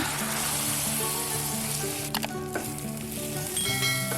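Curry leaves and dried Byadgi chilies crackle in hot oil for a tempering, a loud, continuous sizzle with sharp spluttering pops close by.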